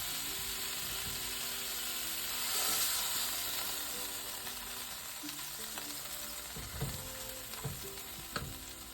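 Pork tenderloin sizzles steadily while browning in a hot frying pan, with occasional scraping and clinking of a utensil against the pan.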